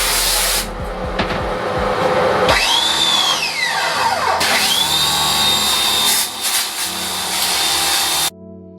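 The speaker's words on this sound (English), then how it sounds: "I'm having some pressure washer issues." A pressure washer sprays a screen-printing screen at a dip tank setup, a loud continuous hiss with rising and falling whines as the jet sweeps, cutting off abruptly at the end.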